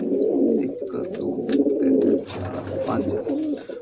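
A pigeon suffering from paralysis, held during treatment, coos repeatedly at close range in low, throaty, overlapping calls.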